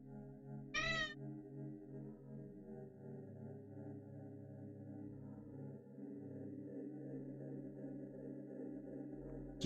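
In the video game Impostor Factory, a cat gives one brief, clear meow near the start, then a steady, low in-game background hum carries on alone for several seconds.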